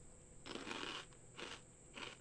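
Basil-flavored pea crackers bitten and crunched close up, three short crisp bursts of crunching separated by brief pauses, with no talking.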